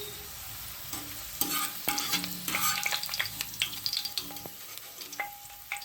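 Homemade crispy potato chips being lifted out of hot frying oil, a steady close sizzle broken by irregular scraping and clinking taps, with no voices.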